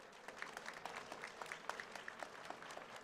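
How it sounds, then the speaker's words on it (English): An audience at a pitch competition semi-final applauds the judges with steady, moderately loud clapping spread across the room for about three seconds, with no talking over it. "give them all another round of applause"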